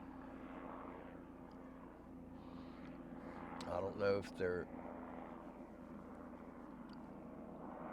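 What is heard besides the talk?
helicopter flying over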